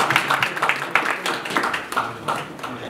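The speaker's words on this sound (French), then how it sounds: "on peut encore l'applaudir je pense" Audience clapping for the speaker Ali at a tech meetup, a moderate burst of individual claps with some uneven, sparse hand strikes, fairly close and without talk.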